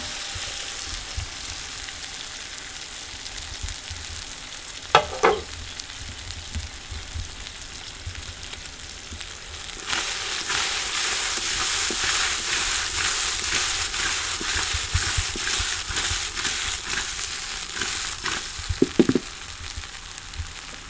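Mung and methi dhokla tempering sizzling in a pan: a steady frying hiss that swells loud from about ten seconds on, with a few sharp crackles and pops along the way.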